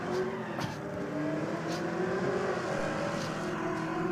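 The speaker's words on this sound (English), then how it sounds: "this VR VS Commodore is making all the right noises" VR VS Commodore drag car engine at a drag strip, a rising, revving roar heard from a moderate distance, fairly faint over a steady background rumble.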